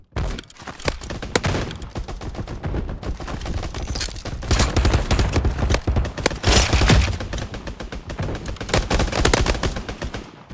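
Dense gunfire from a sniper duel in the online shooter Mini Royale, loud and continuous bursts of shots layered over one another for about ten seconds, with no voice over it.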